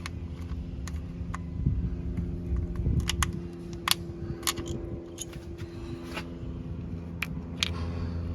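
Loosened ignition coil pack bolts on a car are backed out with a ratchet, giving scattered light, crisp clicks at close range over a steady low background hum.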